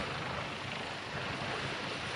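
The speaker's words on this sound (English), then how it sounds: "New generation, twin-engine, 6-ton class helicopter." A new-generation twin-engine 6-ton class helicopter flies a display at the Farnborough International Airshow, producing a continuous, dense rotor-and-turbine roar that stays even and unbroken throughout.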